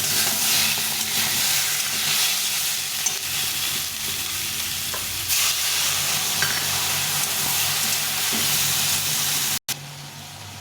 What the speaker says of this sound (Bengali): আদা জিরে লঙ্কাটা বেটে রেখেছিলাম তার মধ্যে লবণ হলুদ দিয়ে এটাকে ভালো করে কষিয়ে নেব